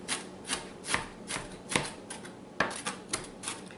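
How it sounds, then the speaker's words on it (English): Spinach being chopped finely with a knife on a cutting board, a string of sharp, close knocks in an irregular rhythm, fairly quiet with nothing else around. "Chop it very fine."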